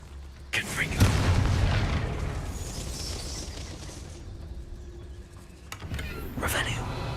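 A Confringo spell explosion in Hogwarts Legacy bursts with a heavy booming blast that rumbles and fades over several seconds, followed by a second sharp impact near the end.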